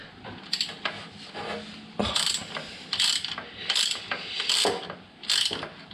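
Ratchet wrench clicks in short bursts as a flange nut is tightened on the engine skid plate of a Triumph Street Triple, close and crisp with quiet pauses between strokes.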